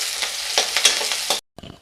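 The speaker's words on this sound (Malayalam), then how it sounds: "നമ്മുടെ ചെറിയ ഉള്ളി അരിഞ്ഞ് വെച്ചിരിക്കുന്നത് പച്ചമുളക് 2 കൂടെ ഇട്ട് അതൊന്ന് വറുത്ത് കോരിയെടുക്കുക." Sliced shallots and two green chillies frying in hot oil for ginger curry, a loud close sizzle with stirring scrapes, then a short break before a fainter sizzle resumes.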